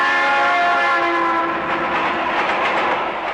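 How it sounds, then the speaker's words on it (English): Train heard in a 1997 North Korean film, a steady loud rumble of rolling rail cars with sustained horn or whistle tones over it, continuous throughout and no talking. "He boards a train and arrives the next day"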